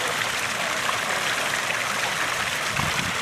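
Water from the Hands Fountain pours in a steady, loud, continuous rush with no pauses and no talking.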